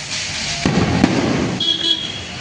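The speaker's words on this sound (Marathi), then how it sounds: "आता आम्ही आलो हॉटेलवर फटाके फोडायला" Diwali firecrackers burst outside a hotel, one sharp crack followed by crackling and a fizzing whistle, close and loud over faint background noise.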